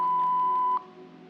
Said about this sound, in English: please leave your name and number at the sound of the beep